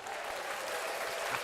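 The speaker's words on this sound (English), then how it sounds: "I got a fancy applause button now." Applause sound effect played from a button on a morning show, a short burst of crowd clapping, soft and even throughout.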